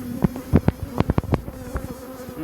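Worker honey bees buzz steadily around a farm hive fitted with a metal queen excluder, a close, continuous droning hum with scattered sharper clicks and pulses from bees passing near.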